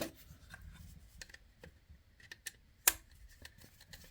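Small screws being tightened on live, neutral and earth wires in the back of a UK double plug socket, giving faint scattered scraping, rubbing and ticking sounds with one sharper click partway through.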